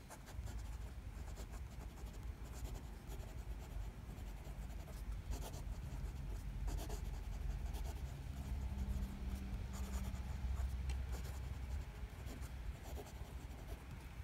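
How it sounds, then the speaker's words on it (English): A Butterknife Creations Orion fountain pen writes across paper, a faint, close, continuous scratchy scribble with brief lifts between strokes, heard alone without talk. "let's do a quick little writing sample."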